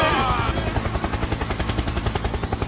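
Helicopter with a steady rhythmic rotor chop, loud and close, the blade thumps pulsing evenly throughout with a brief high whine at the start.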